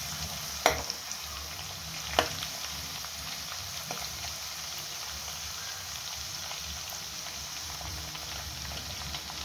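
Grated garlic fries in a hot pan for chilli paneer, giving a steady soft sizzle with a couple of sharp clinks of a utensil early on and no talking over it.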